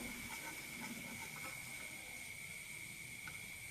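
Cabbage manchurian balls deep-frying in oil until golden brown, a faint steady hiss of bubbling oil with a constant high whine, no talking.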